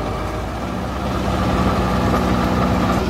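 Kubota MU5502 tractor engine held at 750 rpm under load, a loud, close, steady low diesel drone with a hum that rises slightly partway through.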